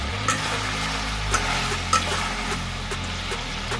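Diced tomatoes hit hot oil in a kadai for chicken kadai, giving a loud close sizzle with low rumbling and occasional spatula stirring knocks.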